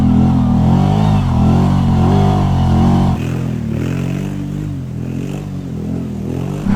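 A Kawasaki Brute Force 750 ATV engine, newly fitted with a 2-inch lift kit, revs loudly and close while riding, a throaty mid-pitched drone rising and falling, then dropping to a lighter pull partway through.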